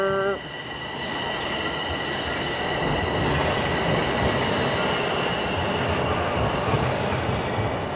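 A Toronto subway train rumbles steadily into a station, wheels squealing with high metallic tones over a continuous loud roar, close by and unbroken.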